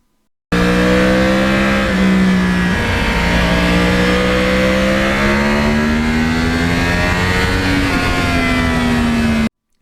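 A Yamaha R1 crossplane-engine motorcycle revs hard and close, its loud engine note rising and climbing through gears in sustained pulls before cutting off abruptly near the end.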